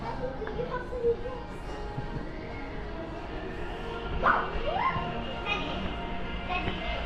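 Small dogs give a few short yips and barks, one sharp bark standing out near the middle, amid outdoor bustle at Cheshire Oaks shopping centre in the UK, with people talking in the background.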